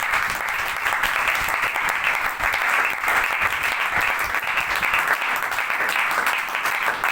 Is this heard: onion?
no